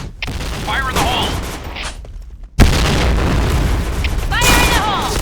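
A grenade goes off on the Sandstorm map of a multiplayer shooter: a sudden loud blast bursts in midway after a brief lull, surrounded by shouted in-game voice callouts and battlefield noise.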